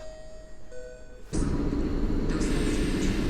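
Old EP07 1032 electric locomotive standing at Warszawa Centralna station, a steady low rumbling drone with a faint electrical hum that steps up suddenly to a louder, broader roar partway through and then holds.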